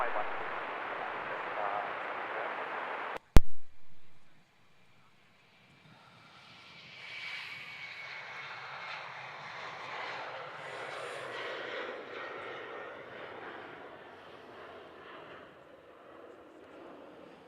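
An aircraft lands on runway 16 at Melbourne Airport, its engine roar a steady broadband rumble at moderate distance that swells slightly then fades slowly, following a brief burst of radio chatter and a pause.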